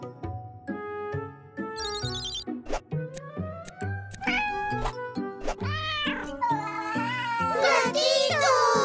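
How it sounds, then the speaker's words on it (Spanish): A cartoon kitten meows over and over in high, plaintive cries that rise into stretched, wailing caterwauls. The calls are close and insistent, with bright jingling tones mixed in behind them. "¡Gatito!"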